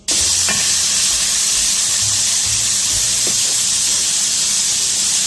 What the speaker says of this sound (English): we want to render down the bacon, but we don't want to make it super crispy